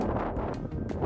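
Wind buffeting a microphone outdoors after a Cessna Citation flight to Florida, a loud, steady low rumble with gusty swells, alone with no talking.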